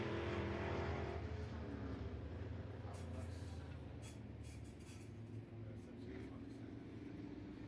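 An IMCA Sport Modified race car drives through a turn at a speedway, its engine a faint, distant steady drone with a brief rising whine near the end.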